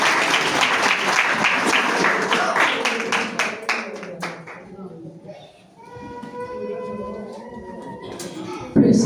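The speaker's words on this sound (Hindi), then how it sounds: "एक दफा फिर से जोरदार तालियां" Church congregation applauding loudly during a Hindi-language Christian service, dense clapping that thins out into scattered claps as a voice speaks and sustained tones come in.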